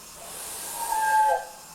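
A British Railways Standard steam locomotive venting steam from its open drain cocks, a loud, steady hiss that swells briefly near the end with a faint whistling edge, heard alone without talk.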